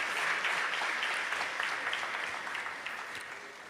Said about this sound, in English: Can we give a big round of applause to welcome him again and thank him